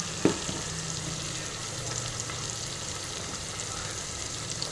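Ginger garlic paste frying in a pan, giving a steady, even sizzle close by, with a brief clatter near the start and no talking.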